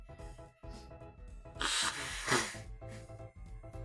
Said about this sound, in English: I gotta blow my nose for a second